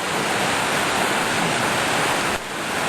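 Floodwater from a swollen creek rushes across a road in a loud, dense, unbroken roar, close to the microphone, with one brief dip near the end and no voices.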